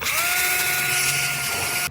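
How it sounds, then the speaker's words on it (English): Power drill boring an alignment hole through a sheet-metal door skin, a loud, steady whining drone held for almost two seconds before stopping abruptly, close up with no talking. "I am going to drill 2 holes, one here and one on this side"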